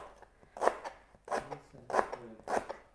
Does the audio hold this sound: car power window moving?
no